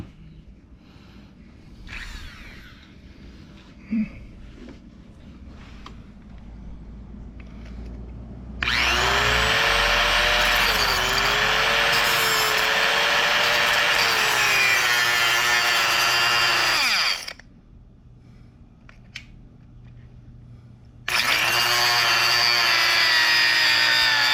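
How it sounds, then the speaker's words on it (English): A high-pitched Dremel rotary tool whines loudly in two long bursts cutting a stripped bolt on a Royal Enfield motorcycle, its pitch dipping under load, with quieter workshop noise in between. "I think I need to do just a little more drill, a little more Dremel."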